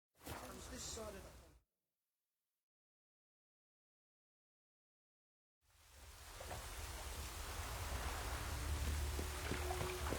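In The Witcher 3 on PC, a brief burst of noise, a few seconds of silence, then a steady hiss of rain that swells and holds, with faint low rumbling beneath.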